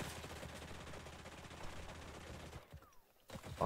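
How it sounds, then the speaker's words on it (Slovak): Rapid gunfire in a battle-royale shooter game, bursts of shots hammering into the player's own building, dense and continuous before a brief lull and a final loud burst. "Nevadí, do vlastnej stavby si strieľam."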